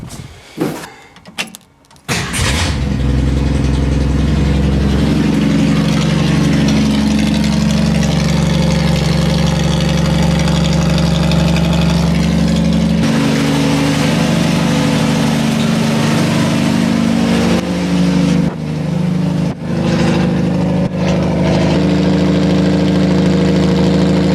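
A 1965 Ford Mustang straight-six engine cranks and catches, then settles into a loud, raw, rumbling idle that runs steadily with no muffler.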